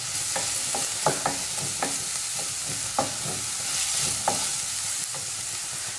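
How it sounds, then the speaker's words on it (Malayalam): Green chillies and onion fry in a pan for a tapioca egg masala, with a soft continuous sizzle and a spoon scraping and clacking in an uneven, repeated stirring rhythm close by. "നന്നായിട്ടൊന്ന് മിക്സ് ചെയ്തെടുക്കാം. ഇതിൻ്റെ കൂടെ തന്നെ നമുക്ക് ഇതിലേക്ക് പച്ചമുളക് ഇട്ട് കൊടുക്കാം."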